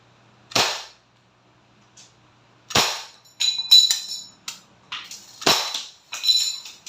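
Umarex Glock 17 Gen 5 airgun pistol firing several sharp, loud shots with brief clicking and clattering between them, the reports spaced a couple of seconds apart.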